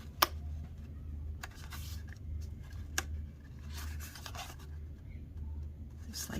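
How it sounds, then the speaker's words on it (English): Paper treat box tabs with adhesive being folded in by hand, with quiet crisp creases and scratchy rubs over a low steady hum, plus a few sharp taps. "So we're just going to fold those in like that"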